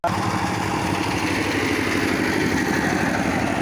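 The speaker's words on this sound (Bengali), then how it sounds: "এটা হলো খোয়া ভাঙ্গা বা ইট ভেঙে খোয়া তৈরি করা একটা মেশিন" A brick crushing machine used to break bricks into aggregate runs in Bogura, Bangladesh, with a steady, loud, continuous engine drone that holds unchanged from start to end.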